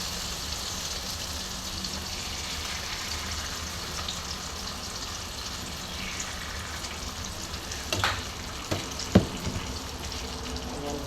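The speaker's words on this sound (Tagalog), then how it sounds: "frying eggplant" Eggplant fries in a pan with a steady, hissing sizzle throughout, close and even, broken near the end by a few sharp clinks of a utensil.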